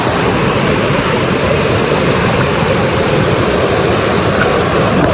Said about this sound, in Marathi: पाण्याला प्रवाह खूप जास्त आहे